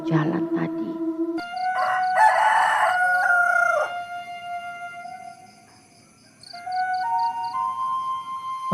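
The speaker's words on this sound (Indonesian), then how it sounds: "aku pun mendengar suara kokok ayam" A rooster crows at dawn in a village, loud and close, with sustained harmonic calls rising and falling over several seconds, then another crow following a brief dip.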